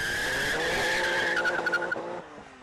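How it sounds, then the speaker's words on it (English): RUF RT12 sports car with a 650-horsepower flat-six launching hard, a loud sustained tire squeal over engine roar that breaks into rapid chatter before fading. "This car launches with an authority you'd never imagine."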